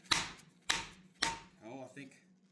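A farrier rasp knife chops down onto a nail on a wooden cutting board, three sharp, evenly spaced strikes close by, followed by softer scraping.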